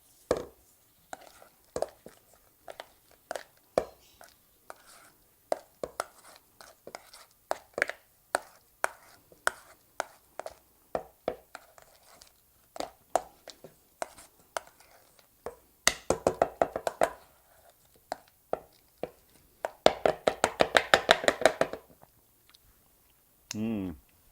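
Garlic butter being mixed with herbs, pepper and salt in a bowl, heard as a long run of quick close taps and knocks, with denser scraping flurries near the end.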